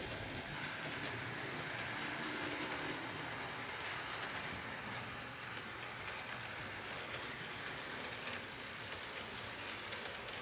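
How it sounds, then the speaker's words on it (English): A model train runs steadily along its track, a continuous rolling rumble with faint clickety-clack, constant in level throughout with no talking. "And now it's time to run some trains."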